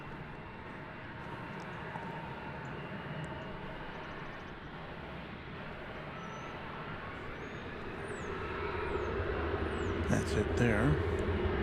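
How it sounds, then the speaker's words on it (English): An American Eagle Embraer 175 regional jet takes off from runway 18 Left at DFW Airport, its broad, steady engine roar rising and growing louder toward the end, with a brief spoken comment over it. "We've got 3 American Eagle Embraer 175s poised for takeoff there on 18 left"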